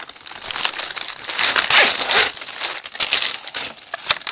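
A plastic pouch holding a craft purchase is opened up close, giving loud crinkling and crackling rustles in uneven bursts with sharp snaps, and no speech.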